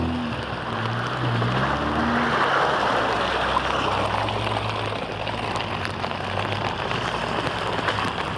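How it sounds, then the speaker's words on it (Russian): Steady broadband wash like rain falling on water, constant and moderately loud, during an off-road drive from Kanzhol to Dzhily-Su, with a low engine-like hum early on and no speech. "Плюс дождь, конечно, все портит."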